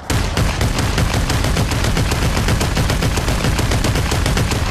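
Rapid, loud automatic gunfire in the VR shooter Population One, a steady stream of closely spaced shots continuing without a break.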